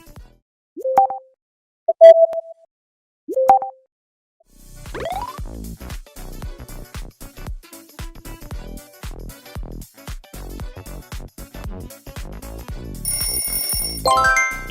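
Instagram notification sound: a few short bright plopping chimes spaced across a quiet start, followed by a busy stretch of clicking percussive electronic tones.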